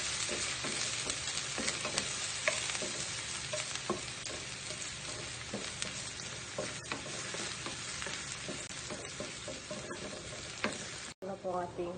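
Sliced onion sizzles and crackles in a hot frying pan, a steady hiss punctuated by small pops and occasional stirring clicks, close and moderately quiet.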